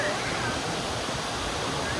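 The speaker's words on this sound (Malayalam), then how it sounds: "ഒരു ചെറിയ വെള്ളച്ചാട്ടമൊക്കെ ഉണ്ട് കേട്ടോ." A small waterfall on a foggy, mist-covered hillside pours out a steady, dense rush of white water that stays even and unbroken from start to finish.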